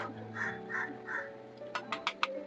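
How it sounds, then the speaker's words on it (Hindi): A crow caws several times in quick succession close by during rain, after softer calls earlier, with a steady background hum underneath. "कौवा भी का का कर रहा है"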